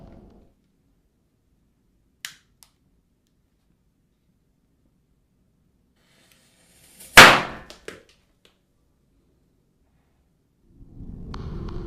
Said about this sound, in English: a man wearing a mask covered in bananas with firecrackers embedded in them as he methodically lights each one